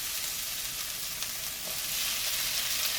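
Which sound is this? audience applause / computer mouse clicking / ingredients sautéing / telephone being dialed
ingredients sautéing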